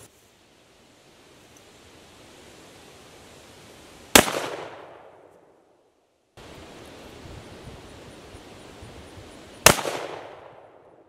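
Two sharp, loud gunshots from a Colt 1847 Walker black-powder revolver fired at two-liter soda bottles on a range, about five seconds apart, each followed by a short decaying rumble over low outdoor noise.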